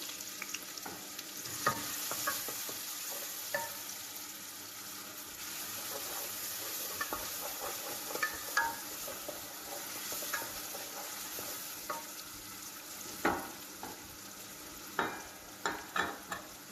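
Onions sizzling in hot cooking oil for a vegetable soup, stirred now and then, with a steady close hiss broken by sharp scrapes and clacks of the spoon against the pot, louder toward the end.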